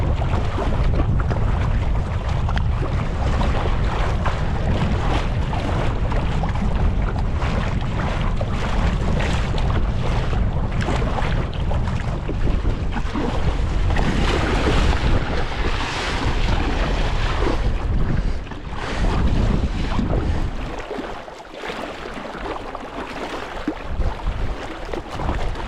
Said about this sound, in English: The waves are picking up a little bit.